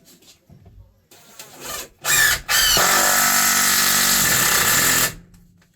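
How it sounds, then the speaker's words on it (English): A power drill drives screws into wood while building a raised van floor, with a couple of short bursts and then one long steady whirring run, loud and close. "I'm going to go and drive some screws in it and I'll hold it in place."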